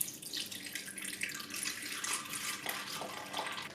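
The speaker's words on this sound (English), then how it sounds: "I'll pour in half a cup of milk" Milk pours in a steady stream into a KitchenAid Pro Line blender jar, a continuous close liquid splash lasting a few seconds with no voices.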